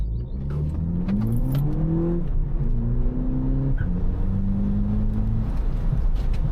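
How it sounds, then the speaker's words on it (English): A VW Polo GTI 2.0T exhaust in sport mode, driven with the sunroof and windows open, rises through the revs in climbing pulls with a drop at each gear change, loud and close in the cabin, with no talking. "Now we're testing out the exhaust system on sport mode."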